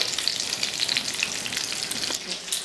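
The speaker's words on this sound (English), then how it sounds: "We've got our chicken in the pan. It's browning nicely." Close, busy sizzling of chicken browning in a hot pan, crackling and popping steadily throughout with no voices.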